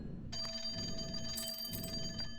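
A telephone rings in a rogue-lite slot machine video game, a steady electronic bell trill sounding clearly and alone for a couple of seconds over a low background hum.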